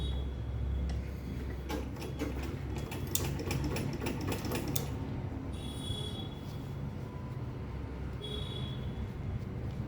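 Sewing machine stitching fabric, a rapid rattling burst of needle strokes in the middle with a steady motor hum throughout and a few short high squeaks later, close and alone.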